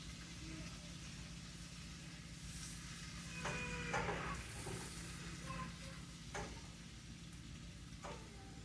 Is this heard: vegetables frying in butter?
yes